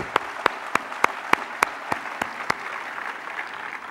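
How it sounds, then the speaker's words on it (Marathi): An audience at a Marathi devotional kirtan claps loudly in a steady, even rhythm of about nine sharp beats. The claps then melt into a softer, continuous wash of crowd applause with no talking. "त्यांना एकदा जोरात टाळ्या वाजून कौतुक करा त्यांचं."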